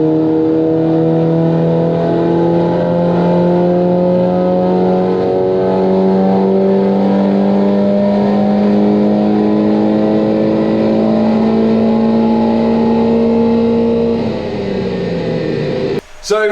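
A tuned Audi TT Mk2 engine is held at revs on a dyno. It drones loudly, with tones climbing slowly and steadily over about fourteen seconds before it drops off sharply into a brief clatter.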